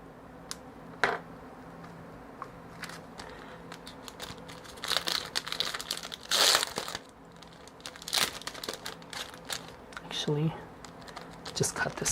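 Scissors cut a small piece of paper for a handmade card, giving a series of short crisp snips and rustles, with a person talking quietly in between.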